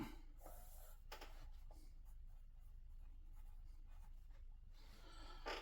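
Pen scratching on paper as a serial number from a Telecaster guitar body is jotted down by hand, several short close strokes over a low steady background.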